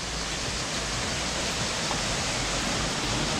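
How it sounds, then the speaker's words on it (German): Several waterfalls on the first level of a bathing area in Georgia, a steady broadband rush of falling water filling the whole space, loud and unbroken throughout. "Und auf der ersten Ebene mehrere Wasserfälle"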